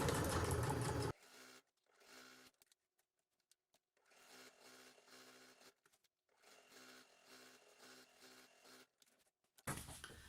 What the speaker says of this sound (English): And again, I'll do this double stitching.